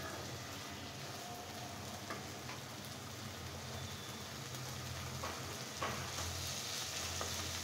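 Chopped leafy greens frying in a pan with vegetables, giving a steady, even sizzle and soft crackle throughout, fairly quiet and close, with occasional faint stirring clicks and no voices.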